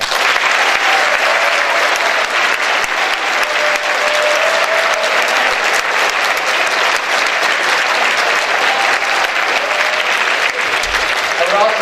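Loud, continuous applause from a large audience at a high school Thanksgiving assembly, an even wash of many hands clapping with some murmuring voices mixed in.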